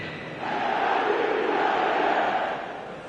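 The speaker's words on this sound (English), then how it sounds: "The crowd are calling for this to be put to bed." A stadium crowd in the football video game eFootball 2026 roars and chants in a sustained, massed swell that rises quickly, holds steady for a couple of seconds, then eases off.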